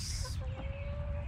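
A few hens cluck in a short close burst, with a faint steady tone running underneath.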